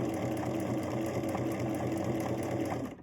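A sewing machine stitches a quilt block along a scant quarter-inch seam line, a fast even whirring hum that runs close and steady before stopping abruptly.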